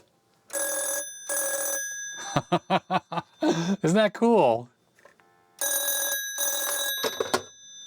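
An office phone system extension rings in two bursts of warbling electronic double rings, one near the start and one near the end. A person talks in between.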